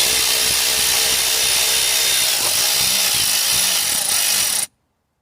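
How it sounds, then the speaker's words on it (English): A power tool removing three 10mm bolts from the belt tensioner of a Peugeot Partner / Citroen Berlingo 1.6 HDi. It whirs loudly and steadily at close range, then cuts off abruptly into silence. "Just here we've got the tensioner, so we're just going to remove 3 10mm bolts."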